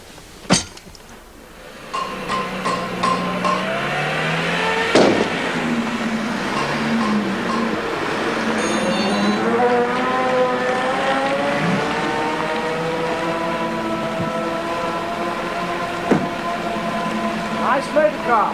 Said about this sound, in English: Nice motor car.